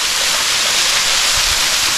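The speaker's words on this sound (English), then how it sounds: "Miniature waterfall by the road." A small waterfall beside a mountain road in Laos roars steadily and loudly up close, a constant dense rush of falling water with no voices.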